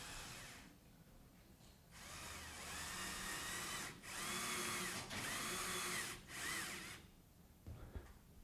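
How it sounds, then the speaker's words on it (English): A power drill drives fasteners through a compensating channel into a wall while fitting bi-fold glass doors, with several sustained whirring bursts separated by short pauses, close and fairly loud. "We're simply going to fasten that directly onto the wall"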